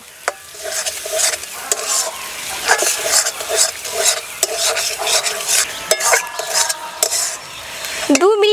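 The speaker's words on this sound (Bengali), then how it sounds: "উনুনের জাল কমিয়ে দিয়ে এবার 2 মিনিট কষিয়ে নেব।" Lata fish curry masala is stir-fried in a pan, with a loud close sizzle under repeated scraping strokes of a spoon against metal and a clatter near the end.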